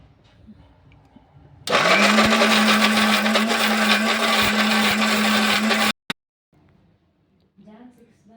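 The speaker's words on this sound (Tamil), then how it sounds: "மிக்சியில் போட்டு நன்றாக இப்போ அரைத்து எடுக்கணும்" A kitchen mixer grinder blends pirandai (adamant creeper) chutney, starting abruptly with a loud steady whirring drone that runs for about four seconds and then cuts off, with faint voice before and after.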